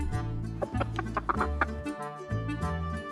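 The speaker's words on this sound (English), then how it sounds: "Chicken." Farm chicken clucking in a string of quick, close, fairly loud clucks with short pauses between them.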